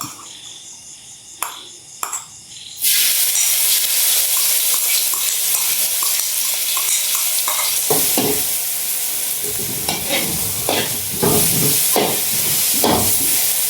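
Chili and garlic stir-fry in a pan, bursting into a loud, steady sizzle after a couple of quiet knocks, with scraping stirs and metallic clinks of a utensil repeating throughout.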